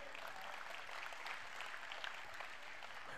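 Steady applause for the five trustees of a Jain sangh at a diksha farewell gathering, a dense even wash of clapping filling the whole stretch without a break.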